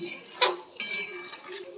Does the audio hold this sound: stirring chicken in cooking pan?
yes